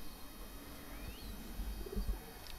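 Soft, low cooing from wild and golden cross-bred pigeons in a couple of short murmuring bursts near the end, over a steady background hum.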